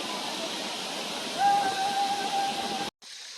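Steady rushing water flows continuously at close range at Talakona waterfalls, a full broadband wash that cuts off abruptly near the end.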